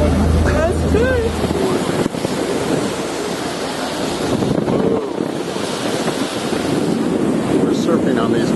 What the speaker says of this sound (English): We're surfing on these waves.